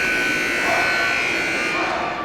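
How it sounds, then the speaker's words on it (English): At a 2016 McInnis Cup Final ice hockey game, the arena buzzer ending the second intermission sounds as a loud, continuous electric drone lasting about two seconds and tapering slightly at the end. "That buzzer means the second period, second intermission has ended"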